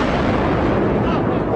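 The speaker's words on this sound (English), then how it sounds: "We just heard another explosion." A heavy, roaring explosion at the collapsed World Trade Center fills the air as a loud, continuous rumbling blast with a broadband roar, very close and overpowering.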